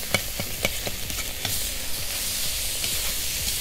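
Food fries in a kazan with a dense, close sizzle, overlaid early on by a quick run of spoon scrapes and knocks against the pot, then settling into a steady hiss.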